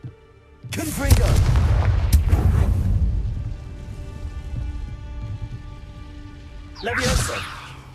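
A Confringo blasting spell explodes in Hogwarts Legacy as a loud, booming burst that rumbles and crackles for about two seconds, then fades into a low ambient bed before a brief swooshing effect near the end.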